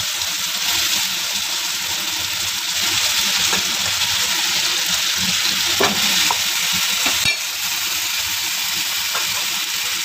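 Masala spices stirred and fried in a pan for potol dorma, giving a steady close sizzle with soft scraping stir strokes throughout and no talking.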